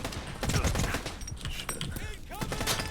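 Repeated close gunfire from a double-barrel Boomstick shotgun in the video game Stalker 2, with sharp blasts amid a dense, busy mix of combat noise.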